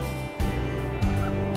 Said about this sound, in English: This is Lucy, she's one of our bantam chickens.